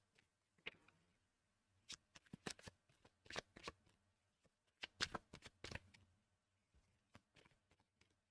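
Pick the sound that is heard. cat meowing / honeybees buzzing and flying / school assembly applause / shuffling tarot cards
shuffling tarot cards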